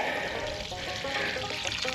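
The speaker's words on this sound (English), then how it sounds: "I'll just take this nasty swamp water and just pour it all over that bush" Murky swamp water pours from a container onto a garden bush, a short steady splashing trickle at close range with no voices.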